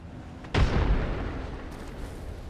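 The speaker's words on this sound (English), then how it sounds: "Throwing in. Frag out." A frag grenade detonates in Apex Legends, one loud, sudden boom with a heavy low-end thump that decays into a rumbling tail over about two seconds, with no voices over it.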